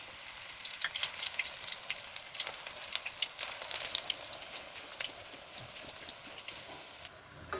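Jute leaf pakoras fry in hot oil with a soft, continuous crackling sizzle, dense with tiny pops, heard alone at low volume.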